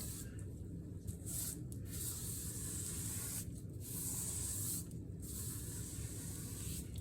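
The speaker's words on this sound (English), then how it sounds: "And you just run your brush up and down the angle." A 1.5 inch angle brush is swept up and down over wet veneer plaster, making a soft, steady close hiss of bristles with brief pauses between strokes.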